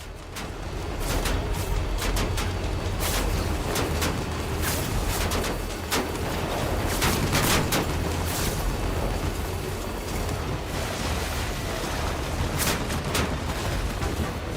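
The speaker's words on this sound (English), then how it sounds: "Oh, they're shooting at me." Enemy gunfire in the video game Death Stranding crackles in dense, sustained volleys of sharp shots over a loud, rumbling bed, continuing without pause and with no talking.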